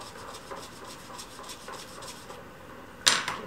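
A brush scrubbing watercolor paint on paper, repeated soft rasping strokes in a steady rhythm, close and quiet, ending in a brief louder scrape near the end; no talking.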